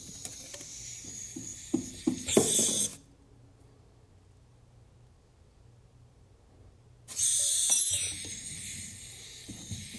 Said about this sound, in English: some gas flowing. You guys can probably hear it too.